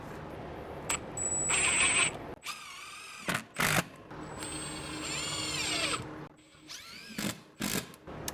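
A power drill drives screws into a wall stud while mounting an electrical box, with several loud bursts of whining motor and ratcheting under load, separated by short pauses.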